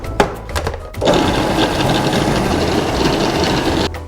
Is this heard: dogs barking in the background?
no